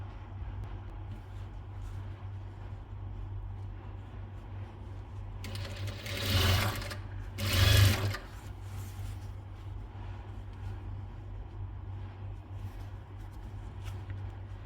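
A sewing machine stitches lace onto a bedsheet with a steady, low mechanical hum throughout. It rises into two brief, louder bursts midway, with no talk.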